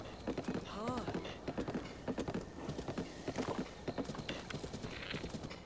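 Horse hooves clip-clopping at a steady trotting rhythm in The Legend of Zelda: Breath of the Wild, with a short whinny early on and a continuous game soundscape underneath.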